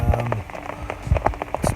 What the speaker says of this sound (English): It's raining pretty good outside.